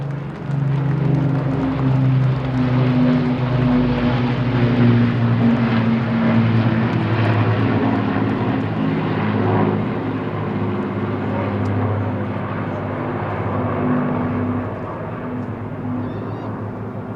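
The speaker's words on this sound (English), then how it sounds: "you lucky people have been watching the Battle of Britain Memorial Flight together with the Canadian Lancaster Mark 10." The Battle of Britain Memorial Flight flying past with the Canadian Lancaster Mark 10 at Eastbourne airshow, a loud sustained droning roar of piston propeller engines that swells and slowly fades.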